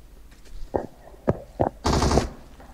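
Gunfire in the online shooter PUBG, a few sharp single shots followed by a louder, longer burst, moderately loud with no talk over it.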